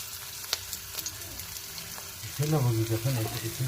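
Chopped onions hit hot oil with curry leaves in a pan while cooking chire pulao, a flattened rice dish, quiet stirring giving way to a louder sizzle, with faint talk underneath.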